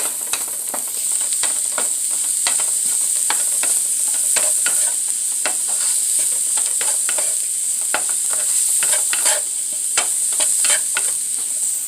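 Mushrooms seasoned with salt and cracked pepper sizzle loudly in a hot pan, a constant bright frying hiss broken by frequent stirring clicks and pops, with no talking.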